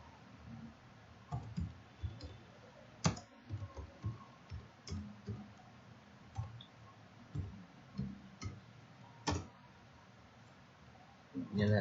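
Someone types a program on a computer keyboard, scattered irregular key clicks and clacks at close range, a few sharper louder taps standing out against a quiet room background.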